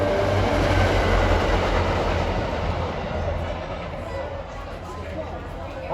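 A train rumbles past on railroad tracks at Ramsey, New Jersey, a loud steady roar with rail noise that eases off slightly toward the end, heard outdoors near the line.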